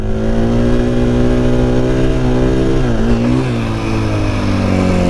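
A 2020 KTM 500 EXC-F dirt bike's engine holds a loud, steady buzzing drone throughout, with a slight dip and recovery in pitch midway, close by with no talking.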